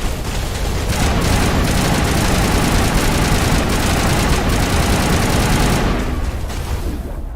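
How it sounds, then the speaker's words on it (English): Rocket fire in the video game Mass Effect, a dense roaring blast that rumbles continuously for several seconds before tailing off, loud and close with no talk over it. "That's a rocket."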